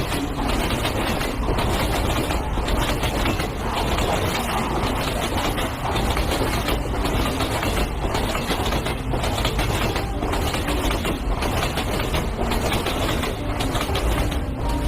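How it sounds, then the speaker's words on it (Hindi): A train rolls steadily along the rails with a continuous loud rumble and a regular rhythmic clatter of wheels on track joints, heard from close by without a break. "ट्रेन तो अचानक से रुक गया"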